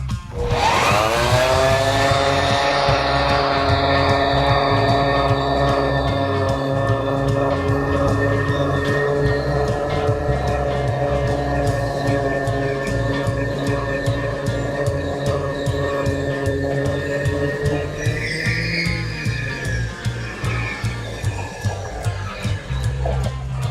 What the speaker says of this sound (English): I take my orbital sander that has 150 on it